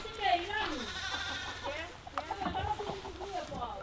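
Sheep bleat repeatedly in a rural farmyard setting, wavering calls close by with overlapping voices, while people talk in between.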